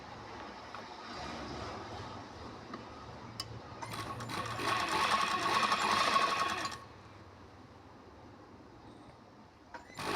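A sewing machine stitches a side seam on a garment in a tailoring boutique. It runs in one rapid, continuous burst of a few seconds, close up, between quieter stretches.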